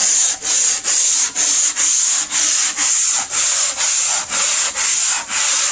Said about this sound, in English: I'm just taking the sanding block, and I'm going to smooth everything down.